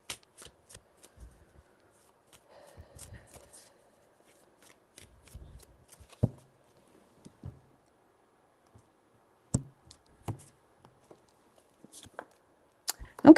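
Tarot cards being shuffled by hand during a reading, giving sparse, quiet riffles and crisp snaps spread across the span, with a louder flurry of card clicks near the end and no talk.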